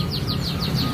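A canary sings close by, a series of about six quick, bright, rising chirps in a regular rhythm over a steady low background hum, with no talking.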